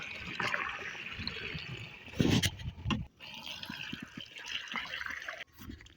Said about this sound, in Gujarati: આપણે એક ડબલું આપણે પાણીનું રેડી દેશું